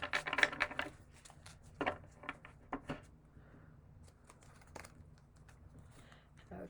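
Quiet papery riffles and soft snaps of tarot cards being shuffled come in short irregular bursts, close up, with faint background hum between them.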